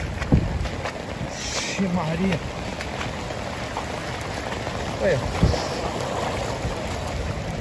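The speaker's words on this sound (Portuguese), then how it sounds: "A água tá vindo com toda a força." A flooded stream near a town square rushes past with strong force, making a steady broad roar of water with scattered splashes and thumps, while excited voices exclaim over it.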